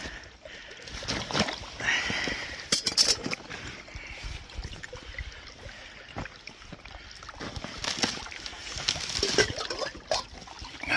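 Close, irregular cracking and splashing as winter ice is broken in water outdoors, with thumps and sloshing bursts rising and falling throughout.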